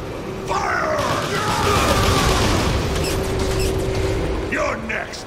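A firing squad volley in Transformers: War for Cybertron booms loudly across the scene with mechanical groans and shouting voices, the blast sustained over several seconds amid dense layered game effects.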